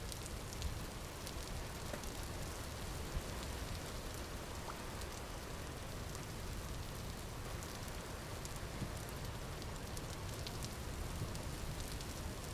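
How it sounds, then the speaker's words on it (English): Steady rain in the survival crafting video game Vintage Story, a dense, constant hiss of drops pattering on surfaces with no pauses, holding at an even level throughout. "Man, the rain's really loud."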